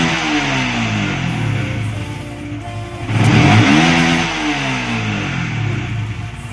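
An older Yamaha Vixion motorcycle engine idles steadily up close, then revs up once sharply midway and drops back to a smooth, even idle.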